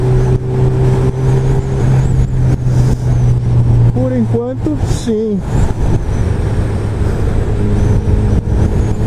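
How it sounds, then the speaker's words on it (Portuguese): A motorcycle fitted with a Yoshimura R77 exhaust idles nearby with a steady low drone, while someone talks briefly over it. "Mas ó, gostei muito do som aí da moto."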